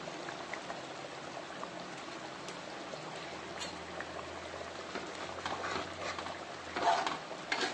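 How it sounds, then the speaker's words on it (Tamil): Village-style Tamil fish curry with vanjaram fish simmers in a covered pot, giving a steady soft bubbling hiss that stays even throughout with a slight rise near the end, no voices. "ஒரு 10 நிமிஷம் மீன் வேகட்டும்."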